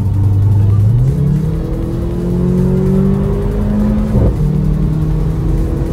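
A racing car drives on a circuit, its engine loud and close, pitch climbing through the gears with a brief dip at a shift, a continuous roaring drone with no talking.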